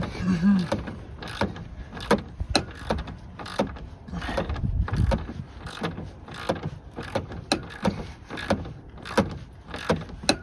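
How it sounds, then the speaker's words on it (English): A Snap-on ratchet wrench turns a bolt at a scrapyard, producing repeated sharp clicking strokes in an uneven rhythm. The clicks sit close and moderately loud over low mechanical rumble. "Thank God for the Snap-on ratchet."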